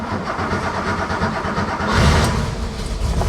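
A 1979 Porsche 911 Targa engine cranks and catches, settling into a loud, rough, uneven idle close by, with a swell in revs partway through.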